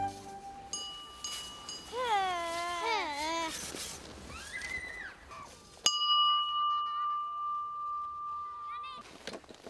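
A bell rings at playtime at a Finnish kindergarten, a clear sustained ringing tone pulsing steadily over several seconds outdoors, with children's voices and chatter heard before it.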